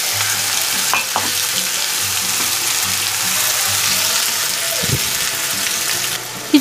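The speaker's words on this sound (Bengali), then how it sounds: "দিয়ে এটাকে পুরো কাঁচা গন্ধ যাওয়া অবধি আমার ভাজতে হবে।" Onion, ginger and garlic paste fries in a pan with a steady close sizzle, broken by a few stirring scrapes and light clatters, with no talk over it.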